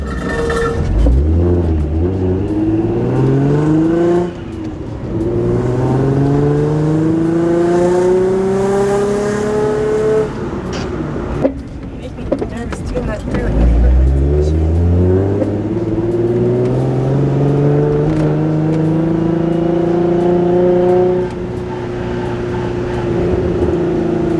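Drift car on Raceland coilovers, running without a front bumper, revving hard through repeated climbing and falling engine sweeps, loud and close, with brief lifts between pulls and no talk.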